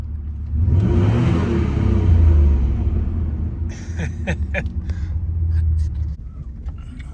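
A smoking 1997 Ram 1500 pickup engine rumbles loudly and steadily while driving, with a rising rev early on and brief clicks and rattles later.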